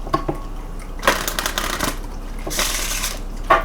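Tarot cards being shuffled for a pick-a-card reading, two bursts of riffling and sliding card noise, close and fairly loud, separated by quieter handling.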